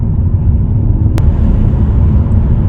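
A car engine at steady idle-to-light throttle, a continuous low rumble held close and fairly loud throughout with no distinct rev peaks, being tested for throttle response after a repair.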